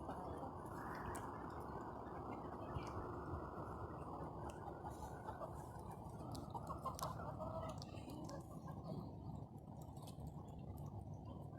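Backyard hens cluck steadily and close by as they peck at freshly thrown grass on a sunny afternoon, a dense overlapping chorus with occasional sharper squawks and no talking.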